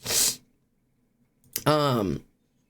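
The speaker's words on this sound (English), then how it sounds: "I have to sneeze. I can feel it." A single sharp sneeze bursts out, preceded by a quick breathy intake a moment earlier.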